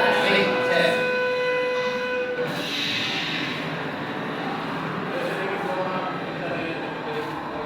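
A train rumbles through a rail yard for broken-down trains, with a sustained horn blast at the start over a steady rolling roar, and a voice speaking beneath the noise.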